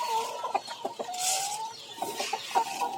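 Tiger breed chickens cluck steadily on a farm in the morning, a close, lively flock giving repeated short clucks and calls with no talking.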